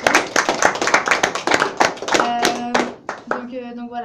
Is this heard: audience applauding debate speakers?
yes